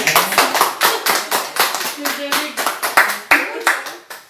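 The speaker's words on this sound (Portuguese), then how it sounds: "obrigado os aplausos também" Rhythmic, sharp hand clapping at an entrepreneurship talk, slowing into regular beats under voices in the room.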